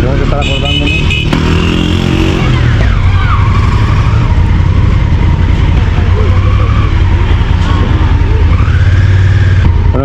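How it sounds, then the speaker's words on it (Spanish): A motorcycle engine drones and revs unevenly while being ridden along a city street, loud and close, with shifting pitch as it accelerates and slows, and road noise and a voice underneath. "Parece que la moto va bien."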